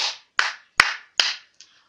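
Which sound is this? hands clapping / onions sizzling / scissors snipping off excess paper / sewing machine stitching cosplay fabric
hands clapping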